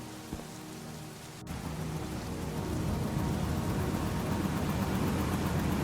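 In a video game, a soft hiss of rain begins after a brief click and swells into a steady, even downpour, with a low rumble of a combine harvester's gears underneath.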